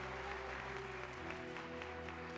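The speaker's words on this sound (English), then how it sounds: "The throne room erupts with applause" Applause fills a throne room in a video game, a steady, even wash of many hands clapping throughout under a low sustained musical drone.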